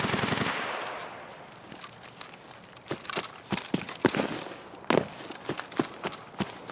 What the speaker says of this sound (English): Now, gunshots to our front.